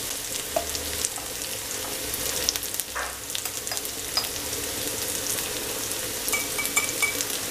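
Garlic, curry leaves and ground spices such as pepper, coriander and chilli powder fry in a pan, giving a steady sizzle with stirring scrapes and occasional clatter and no talk.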